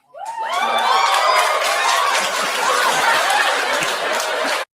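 A large crowd cheers and shouts continuously, loud and dense with rising whoops and yells, holding steady for several seconds before cutting off abruptly.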